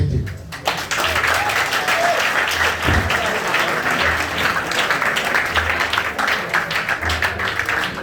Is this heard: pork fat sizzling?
no